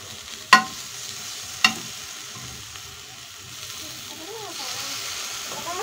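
Food frying in a pan keeps up a soft, steady sizzle, with two sharp scraping knocks early on as the food is turned and stirred. A voice is faintly present near the end.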